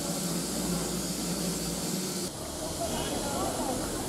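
A steam locomotive hissing: continuous broadband hissing of escaping steam, loud and steady, with a slight shift in tone partway through.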